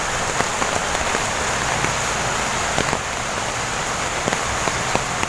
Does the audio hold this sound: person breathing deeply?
no